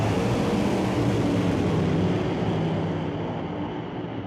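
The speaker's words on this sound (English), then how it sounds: "Sean, rev that baby up." Top alcohol dragster engine revving at an NHRA drag race, a loud, dense, sustained roar that fades slightly toward the end.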